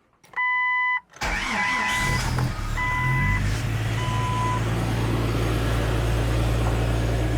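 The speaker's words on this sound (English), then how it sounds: "Let's start her over and see how she sounds." Jeep XJ after a tune-up: a chime beeps, then the starter cranks and the engine catches and settles into a steady, even idle, close and loud, with a few beeps over it.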